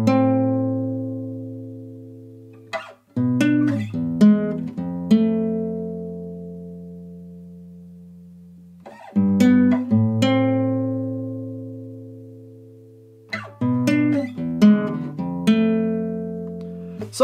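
Classical guitar in standard tuning without capo plays the opening line of a piece from The Last of Us Part II, three slow phrases of plucked notes each ringing out and fading into near silence, close and clear with no talking.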